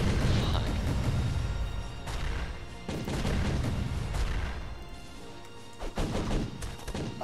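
Bombs explode in the side-scrolling brawler Castle Crashers, a dense run of crashing, thudding blasts layered over game music and effects, with heavy bursts near the start, around the two-to-three second mark and again near the end.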